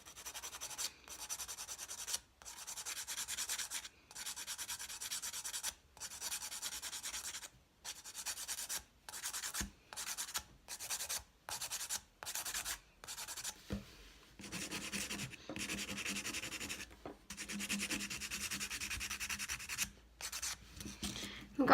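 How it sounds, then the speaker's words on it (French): A nail file rasping across a false nail capsule in repeated short strokes, soft and close, rhythmic bursts separated by brief pauses, quickening into rapid back-and-forth filing near the end. "il faut toujours limer le faux ongle"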